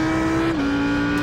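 An Audi R8 GT3 race car's engine accelerates at Imola in a racing video game, a loud, steady high-pitched engine tone that dips briefly partway through as though on a gear change, then climbs again.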